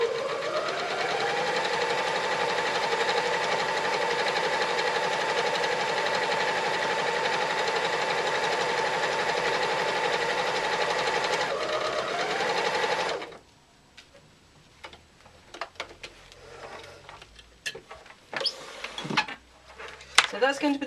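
A domestic sewing machine stitches laptop bag fabric with a loud, close, steady motor hum for about thirteen seconds. Quieter fabric handling and clicks follow.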